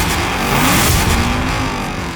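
A Lamborghini Huracan STO revs on a race track, a loud, dense engine roar that swells and holds close by without a break.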